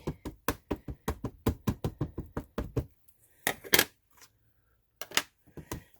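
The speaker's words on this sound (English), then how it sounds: "I tap, but I also do a little squish, and that makes sure that all the stamps are inked nicely" Rapid, close tapping of an ink pad against rubber stamps, a steady run of sharp dry knocks for about three seconds, then a pause and a few scattered softer taps and squishes.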